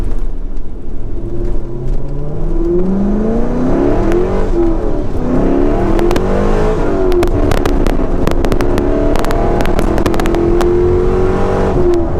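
A car with a stock exhaust revs loudly and continuously close by, its exhaust note rising and falling, with sharp crackles and pops toward the end.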